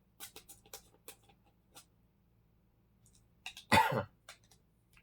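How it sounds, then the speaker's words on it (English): After some faint tapping and rustling, one sharp, strong cough bursts out close by, followed by quiet. "Sorry, I've got a cough and that was super strong."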